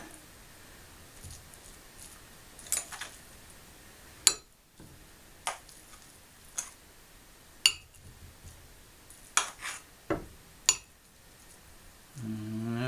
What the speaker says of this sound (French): Et me mettre un peu de riz dedans. À la cuillère, ce sera plus facile.